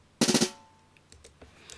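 A short fast flurry of hits on an acoustic jazz drum kit, a snappy fill that rings out, followed by a few faint scattered taps.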